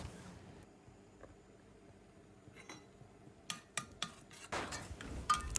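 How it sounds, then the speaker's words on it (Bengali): Turmeric and chili powder being stirred with onions in a pot for a chepa shutki dish with taro, which begins as a faint quiet hiss and builds to a handful of close metallic clinks and scrapes near the end. "আর মশলাগুলো দিয়ে আমি নাড়াচাড়া করে নিচ্ছি ভালোভাবে, যাতে মশলাগুলো মিশে যায় পেঁয়াজের সাথে।"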